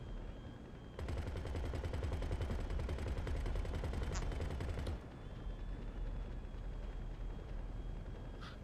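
Rapid automatic gunfire aimed at aircraft in the video game GTA 5, a dense sustained burst lasting several seconds before cutting out to a lower background rumble.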